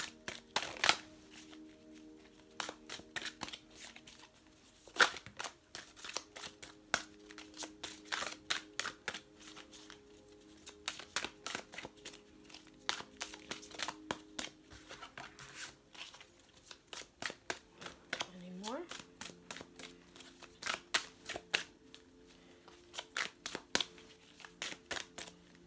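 Tarot cards are shuffled close by in a quiet room, a long run of soft, rapid riffling and slapping clicks in irregular bursts.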